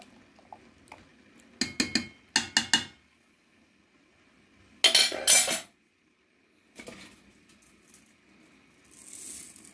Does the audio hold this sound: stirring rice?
yes